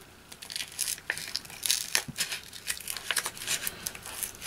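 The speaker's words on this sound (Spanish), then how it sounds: "voy a tomar mis tijeras y voy a partir a la mitad" Scissors snip and slice through paper while a decorative paper garland is cut in half, giving a series of crisp, close crinkling cuts and rustles with no talking.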